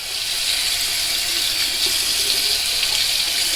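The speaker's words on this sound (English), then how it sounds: "to run the water a little bit under the razor to get the soap out" A bathroom tap runs steadily, rinsing shaving soap out of a Merkur 37C safety razor, making a close, even hiss of flowing water with no talk.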